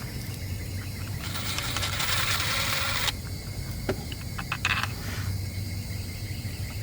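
A power driver whirs steadily for about two seconds, backing a screw out of the clamp on an above-ground pool sand filter, followed by a few small clicks and taps.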